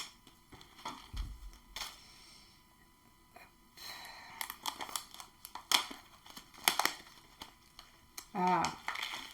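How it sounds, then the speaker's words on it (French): A plastic package of spirulina tablets is cut open with scissors: crinkling and rustling wrapper, sharp snips and tearing bursts at irregular intervals, close up, with speech heard at points. "on va ouvrir ça ensemble, proprement avec des ciseaux"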